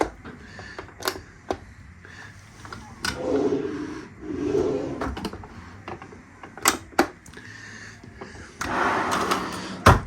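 Sharp wooden clacks and knocks scattered over several seconds, with sliding rumbles in between, like a drawer being pulled out and pushed shut repeatedly nearby; a galley drawer aboard a 2018 Leopard 45 catamaran.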